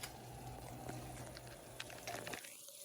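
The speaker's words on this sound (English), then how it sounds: "Alright, so the sugar is boiling." Sugar boiling in a pan for flan caramel bubbles and fizzes steadily at close range as a continuous soft hiss with tiny pops.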